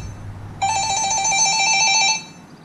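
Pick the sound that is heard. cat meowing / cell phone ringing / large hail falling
cell phone ringing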